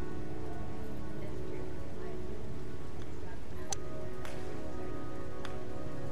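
Rain in the video game Heavy Rain, a steady, dense patter of raindrops on surfaces with a few sharp ticks, continuous and fairly close with no talking.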